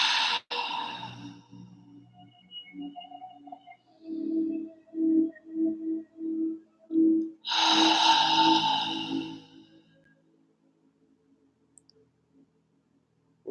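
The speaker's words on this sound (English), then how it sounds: "Let's do a couple more of those deep breaths." Deep open-mouth breathing during a guided meditation: a short run of soft, rhythmic breaths followed by one long, loud exhale, then quiet.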